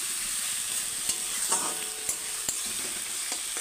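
Jute leaves stir-frying with salt and turmeric in a pan, a steady close sizzle broken by a few sharp scrapes and clicks of the stirring spoon.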